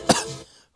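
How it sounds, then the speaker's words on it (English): A single sharp cough up close from someone sore after a mosh pit, followed by a short rough trailing breath and quiet. "My ribs coughing hurts so much because of that mosh pitting"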